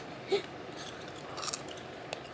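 Meringue cookies are bitten and chewed close up, with a few faint, brief crisp crunches over a quiet background.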